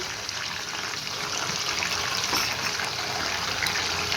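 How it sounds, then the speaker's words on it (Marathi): Salt water poured into hot oil with frying raw banana chips gives a steady, loud hiss and gushing sizzle that holds without pause, with no voices over it. "आपण मिठाचं पाणी तयार केलं होतं ते पाणी याच्यामध्ये टाकून घ्यायचंय"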